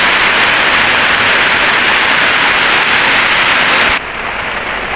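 Heavy rain pours down in a steady, loud hiss over farmland, drumming on surfaces without a break and easing slightly near the end.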